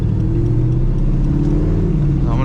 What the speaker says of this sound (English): This is a 2002 Z06 with quite a bit of work done to it.